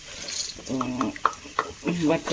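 Green chili and ginger frying in a pan, a close sizzle broken by a few stirring knocks while a person talks over it.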